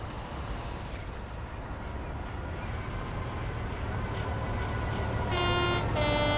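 An AWS warning horn sounds in a UK train cab in Train Sim World 4, a steady tonal blare arriving near the end in two short blasts over a constant engine and track rumble.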